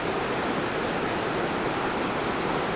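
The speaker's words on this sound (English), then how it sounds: "the rush that you're hearing is the New River" The New River rushes below Hawks Nest Dam, heavy water released from the dam making a steady, full roar that holds constant for the whole stretch with no voices.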